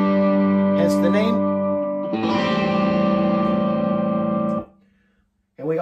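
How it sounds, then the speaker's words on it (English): Big, crunchy distorted electric guitars drive a song's final chorus, with a dense sustained wall of chords under heavy effects that runs loud for several seconds, cuts off abruptly, and is followed by a brief spoken comment. "crunchy guitars, just to the last chorus, which is going to sound like this."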